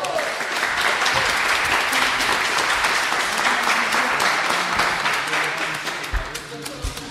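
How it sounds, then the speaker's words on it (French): An audience at a podcast event in Rennes claps for the winners of a horror-film quiz game, a dense, steady applause filling the room for about seven seconds before thinning slightly near the end. "On peut l'applaudir."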